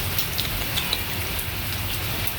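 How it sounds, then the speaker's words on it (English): Rain pours down outdoors as a steady, fairly loud hiss of drops hitting surfaces, with a few faint brighter ticks and no voices. "You're not enjoying this rain?"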